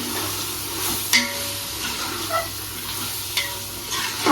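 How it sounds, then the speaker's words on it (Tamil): Masala with ginger garlic paste sautéing for prawn biryani, a continuous sizzle with a few sharp scrapes and taps of the stirring spoon against the pan. "ஒரு 5 மினிட்ஸ் வந்து இதை நம்ம நல்லா வதக்கிடணும்"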